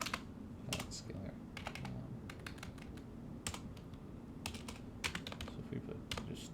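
Quick, uneven clatter of keys on a computer keyboard during a programming session, close and steady over a low background hum, with bursts of sharper clicks scattered throughout.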